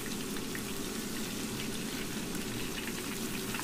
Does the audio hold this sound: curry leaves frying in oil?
yes